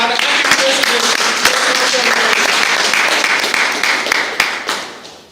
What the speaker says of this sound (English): Can we have a round of applause for our acting president?